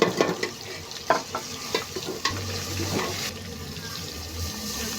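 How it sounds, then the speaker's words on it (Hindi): Water poured into a masala in a pan while kofta fry alongside, giving a soft stirring, sizzling and splashing texture with scattered clinks, moderately close and without talk. "थोड़ा सा मैं पानी डाल दिया"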